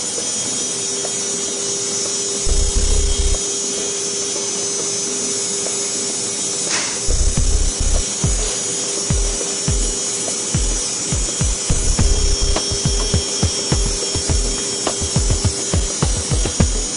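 An excimer laser fires during LASIK eye surgery while the corneal bed is exposed. It gives irregular bursts of sharp clicking pulses, loud and close, over a constant electrical hum.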